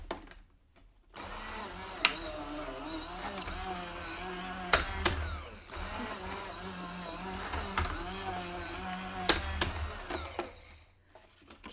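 A die-cutting machine runs a taped card die through its rollers with a steady, loud mechanical whir that holds for about ten seconds, broken by a few sharp clunks, with a short pause near the start and near the end.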